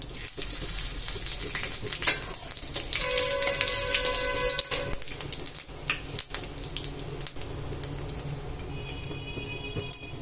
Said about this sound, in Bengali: শুকনো লঙ্কাটা ভাজি হয়ে গেল। এখন অল্প পাঁচ ফোড়নে দিব